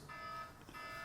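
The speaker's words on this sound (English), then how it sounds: "see, there's an alarm bell." An alarm bell rings during a panel discussion, a steady high tone running through the whole short moment, faint and distant with no speech over it.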